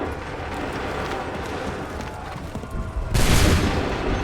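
A musket volley goes off in Assassin's Creed III Remastered as a sudden loud, dense crackling boom near the end, after a rumbling battlefield stretch of running and hooves.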